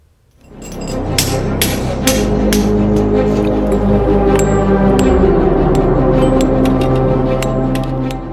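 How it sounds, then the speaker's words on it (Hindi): In a Bihar village eroded by the Gandak river, people hammer down their own house. Several sharp hammer blows ring out early, then give way to a loud, steady rough noise. "मजबूरी में लोगों को खुद अपने बनाए आशियाने पर हथौड़ा चलाना पड़ रहा है"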